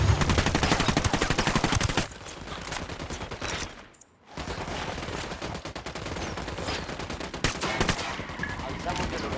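Sustained automatic gunfire from the video game Ghost Recon Wildlands, with rapid bursts of shots rattling nearly continuously, one brief silent gap midway, then more firing.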